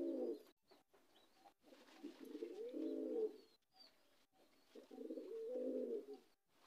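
A pigeon coos in three low, throaty bursts separated by short pauses, close and clear against a quiet background.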